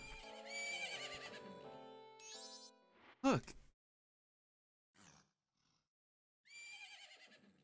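Epona, the horse in Majora's Mask, whinnies in a sharp, rising burst amid busy, layered game music and effects, followed by brief quiet and scattered sounds.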